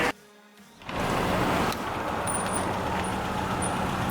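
A Toyota Celica GT-S Tsunami Edition runs on a dyno, a brief lull giving way to a loud, steady broadband engine and roller roar that holds to the end, with no talking.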